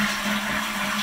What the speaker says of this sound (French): Quand je tiens la chasse d'eau, je sais pas si on va entendre.